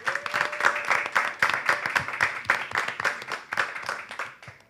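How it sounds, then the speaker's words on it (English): A quiz audience claps for contestants with steady, moderately loud applause that lasts throughout, the individual claps dense and overlapping. "You can give them a clap."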